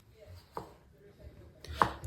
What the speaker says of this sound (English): I'm going to cut the florets into slices while I'm going to cut the stems into cube-sized pieces